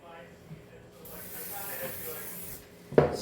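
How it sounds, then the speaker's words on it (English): An aerosol spray hisses in a short burst onto the underside of a non-stick pan in a home kitchen, close and fairly loud near the end, after a softer stretch of rustling and faint speech. "and spray the underside"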